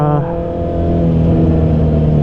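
A 2019 Honda CB650R inline-four motorcycle engine drones loudly and steadily while riding, its pitch climbing slightly as it pulls, close and continuous.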